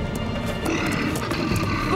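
A cartoon bear growls and roars in an animated children's show, a rough, loud snarl running the whole stretch over a busy soundtrack.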